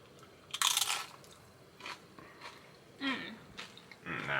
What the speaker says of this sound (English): Now that's time to crunch.